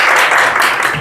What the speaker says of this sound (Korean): 우리에게 좋은 강의를 해주신 우리 이재문 집사님께 우리 감사의 박수를.